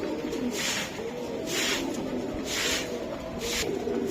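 Soft, low cooing from a racing pigeon, a steady murmuring call close by, alone without talk, with faint rhythmic hissing noise pulsing in the background.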